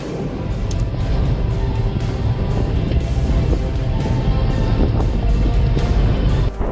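Strong wind roars across a highway used by trucks, a loud, continuous buffeting rumble with deep low-end pressure and gusty surges throughout, with no voices.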